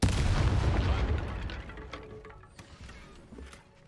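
Spell-triggered explosions burst in Hogwarts Legacy, a loud broadband boom at the start that rumbles and decays over several seconds, with smaller pops and crackles trailing off behind it.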